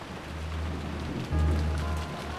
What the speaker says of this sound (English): pass the time listening to the sound of the rain until tomorrow morning